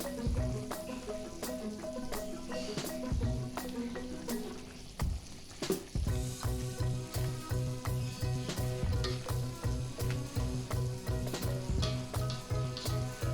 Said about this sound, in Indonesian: setelah mendidih kita masukkan mie instannya.